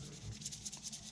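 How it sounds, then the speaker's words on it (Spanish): Sandpaper rubbed back and forth over a plastic Victorinox pocketknife handle to polish it, a soft dry scratchy rasping in short repeated strokes, close and fairly quiet. "resiste bien la lija el hecho de pasarla por el plástico"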